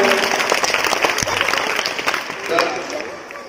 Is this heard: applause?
yes